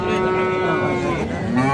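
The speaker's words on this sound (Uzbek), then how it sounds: "sigirlar yaxshi sigirlar ham ko'p chiqibdi" Cows at the Bog'dod livestock market letting out a long loud moo close by, with the crowd murmuring faintly underneath.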